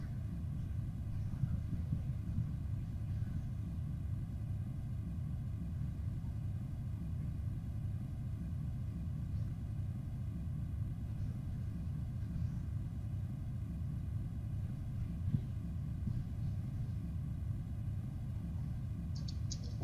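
The lander's thruster in the Atari Lunar Lander arcade game, played through a retro arcade collection: a steady low rumbling roar that holds without a break for about twenty seconds, moderately loud and alone.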